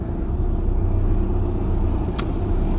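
Audi TT car being parked, heard from inside: a steady low engine rumble with road noise, fairly loud and even, with one brief high squeak near the end.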